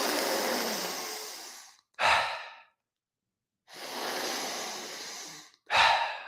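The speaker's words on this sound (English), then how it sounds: "So let's go ahead and take those deep breaths now." Deep breathing during a seated breathwork exercise: two long, strong inhales, each followed by a sharp, forceful exhale, close and loud with no talking.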